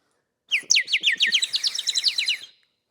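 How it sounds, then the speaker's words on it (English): A ceramic bird-shaped water whistle, filled with water and blown through the tail, gives a rapid, warbling bird-like trill, bright and close, bubbling along for about two seconds and then stopping. "That is a water whistle. And you put water in its head and you blow in its tail."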